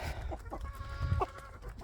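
Faverolles chickens and a young rooster cluck in short, close bursts with a soft rooster-like call in the mix, no talking.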